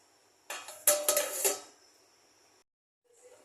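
Metal lid set onto a pot of boiled, thickened milk on a kitchen stove, a few close clattering clinks and scrapes over about a second, then quiet.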